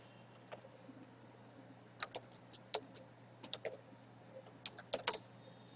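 Someone types PHP and HTML form code on a computer keyboard in sparse clusters of sharp, near key taps separated by brief gaps, with a faint steady electrical hum underneath.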